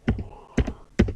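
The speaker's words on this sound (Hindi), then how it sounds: "for example I am typing" Three separate keystroke bursts on a computer keyboard, close and fairly loud, spaced roughly half a second apart, each a sharp clack with a short trailing rattle, while someone enters a date into school management software.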